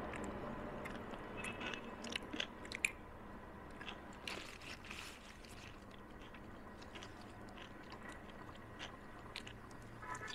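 Close, slow chewing and biting on a burger, with soft crunchy and squishy bites spread unevenly over a quiet background, no talking.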